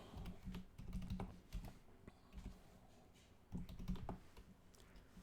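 Typing on a computer keyboard with a cord running across it, heard as faint, uneven clusters of key clicks over a low background murmur.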